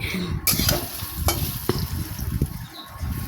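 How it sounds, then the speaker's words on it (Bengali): Taro pieces coated in gram flour fry in hot oil with a steady, close, loud sizzle, broken by a few sharp utensil clicks and scrapes as the pieces are turned. "আর ওই তেলে আবার আমি ভেজে নেব ওই বেসন দিয়ে কচু মাখাগুলো, এগুলো একটু বেশ লাল লাল করে ভেজে নিতে হবে"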